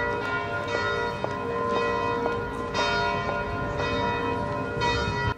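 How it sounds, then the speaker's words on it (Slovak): Church bells of the Sacred Heart church in Holíč ringing, repeated clear bell strikes with long ringing overtones overlapping one another, loud and steady on their own without speech. "O 11. hodine a 11. minúte sa rozozneli zvony kostola Božského srdca v Holíči."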